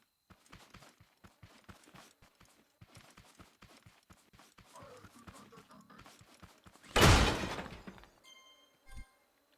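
A single loud pane of glass shatters in the survival game Scrap Mechanic, with a brief crash and a trailing tinkle. Steady game footsteps plod along before it, and a last thud follows.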